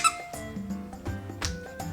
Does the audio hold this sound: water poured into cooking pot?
no